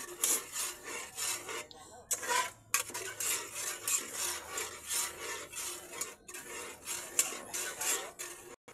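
Spaghetti being stirred in a pan on a smoky stove, a steady scraping, rasping texture of utensil against pan and noodles, continuous and fairly close with brief pauses.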